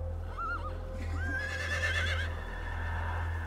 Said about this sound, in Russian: кони, впряженные в возок с иконой, встали, как вкопанные